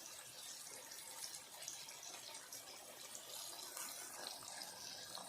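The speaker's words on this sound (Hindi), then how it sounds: "अब इसमें थोड़ा सा पानी डाल देंगे" Water pours steadily into a pan of softened tomato masala while moong dal is being cooked, a continuous splashing gush that runs moderately loud through the whole stretch with no talk over it.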